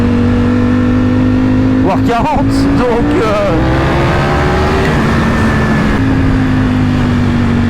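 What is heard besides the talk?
Ducati Panigale V4S motorcycle engine revving and shifting gears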